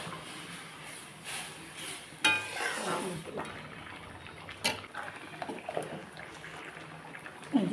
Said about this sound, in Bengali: এই যে আমার ডাল সম্বারা হয়ে গেল।